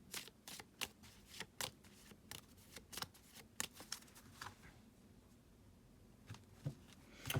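Tarot cards are shuffled and handled close by: crisp, irregular flicks and riffles snapping out in quick bursts, then tapering off into a few softer slides.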